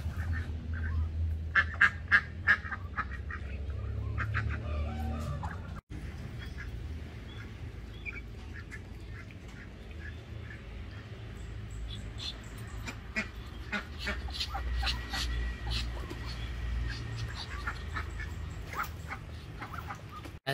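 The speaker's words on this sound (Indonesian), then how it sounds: "kalau suara bebek itu wek wek wek wek wek, tapi kalau suara entok wos wos wos wos wos" Muscovy ducks and other ducks on a small home-scale farm in Karawang give repeated quacks and hoarse calls, loud and close, with a few chicken-like clucks in a steady outdoor hubbub.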